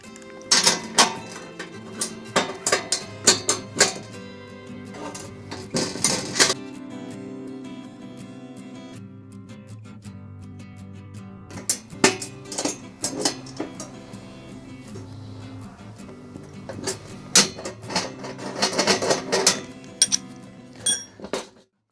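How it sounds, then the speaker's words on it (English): Nuts screwed along a threaded rod with a 13 wrench, giving bursts of metallic clicking and clinking with quieter pauses between them, close and fairly loud. "screw both nuts until the rod reaches the other side. Try to lock the ends with a 13 wrench."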